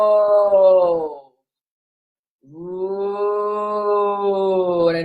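A voice imitates a cow's long, deep moo during a belly-breathing exercise: two sustained, loud, close tones separated by about a second of silence, the second one longer.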